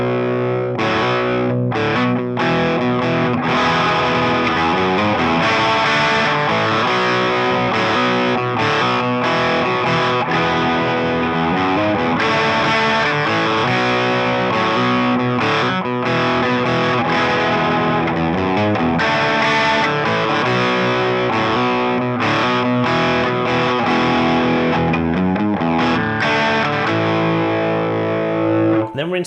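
Heavily distorted electric guitar plays the outro of a song, a steady, loud riff running continuously with a dense, driven tone from start to finish.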